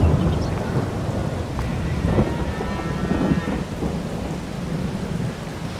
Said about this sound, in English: I probably should wait till it stops raining.